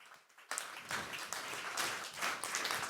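An audience applauds the speakers of a round table at the Deeptech Tour 2022 event at Paris PSL. After a short quiet start, dense, steady clapping fills the room and continues to the end.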